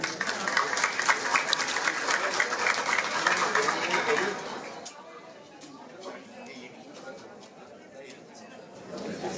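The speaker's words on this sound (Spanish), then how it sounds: "recibimos con un cálido aplauso al licenciado Humberto de la Calle" Audience at a Central American and Caribbean political parties conference applauds to welcome Humberto de la Calle, loud steady clapping for about five seconds, then thinning to lighter scattered claps and murmuring crowd chatter.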